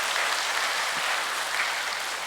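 An audience at a peace blessing ceremony claps steadily and loudly, a dense, even applause that fills the whole moment without any voices over it.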